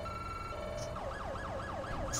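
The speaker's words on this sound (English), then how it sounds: "Shut up with your sirens." A wailing police siren in the video game LSPDFR sweeps up and down repeatedly over a steady background hum, with a couple of brief high chirps.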